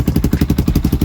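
A Lifan KP Mini 300 motorcycle with a swapped ZS175FMN four-valve engine fires up and settles into fast, evenly spaced thumping pulses, close and fairly loud.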